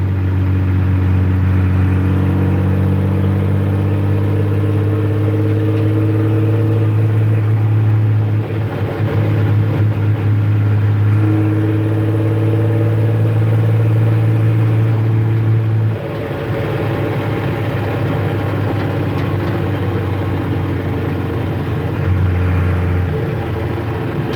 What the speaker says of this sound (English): Listen to how good this truck sounds.